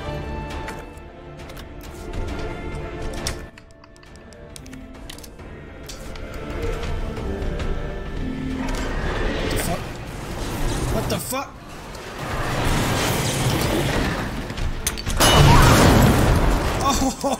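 A flashbang grenade goes off in Resident Evil 2 Remake, a loud bursting blast amid dense game noise and talk, with a sharp crash near the end.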